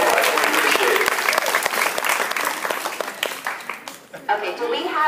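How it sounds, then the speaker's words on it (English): A school flag assembly crowd gives a sustained round of applause, dense claps filling the space and fading slightly near the end, with voices mixed in. "these two deserve a huge round of applause for all their work"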